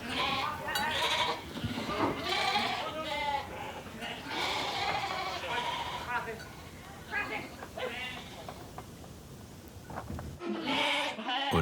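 Sheep in the Faroe Islands bleat repeatedly after herding, several animals calling over one another at close range amid a busy flock, with some voices mixed in.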